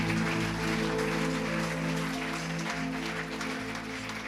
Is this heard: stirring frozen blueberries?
no